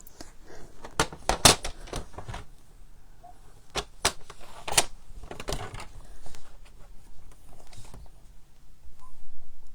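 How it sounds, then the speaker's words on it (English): A card stamp layer for a handmade botanical card is trimmed with a paper trimmer, giving a series of sharp, dry clicks and snaps with brief sliding sounds between them, close and fairly quiet. "I'm just going to trim that down a little bit."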